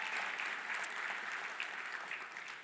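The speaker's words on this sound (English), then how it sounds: "Give Zach a round of applause." Audience applause at a business summit panel, a steady wash of clapping from a crowd in a hall, moderately distant and continuous throughout with no one speaking.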